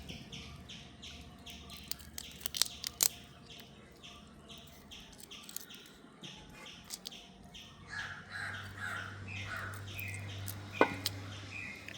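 Crows caw and small birds chirp and tweet outdoors in repeated, moderately distant calls against a quiet background, with occasional soft clicks and knocks nearby.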